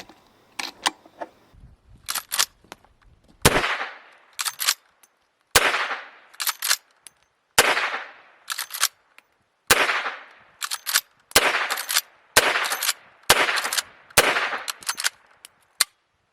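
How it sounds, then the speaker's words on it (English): .357 Magnum rounds are pushed one by one through the loading gate of a Smith & Wesson Model 1854 lever-action rifle, giving a close series of sharp metallic clicks and snaps at a steady, unhurried pace. "So we're going to just load up some rounds."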